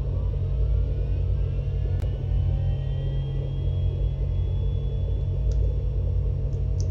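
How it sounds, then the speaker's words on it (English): A Black Hawk helicopter starts up in the video game Garry's Mod with a loud, constant engine rumble and a faint whine slowly rising above it, continuous without talk. "Let's try flying a Black Hawk"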